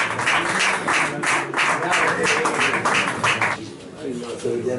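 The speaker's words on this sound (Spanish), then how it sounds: "le damos un fuerte aplauso a mi querida Sonia Cal" Audience applause follows a poet's reading at a singer-songwriter and poetry evening, a dense wash of clapping that fills most of the clip before fading into quieter room sound near the end.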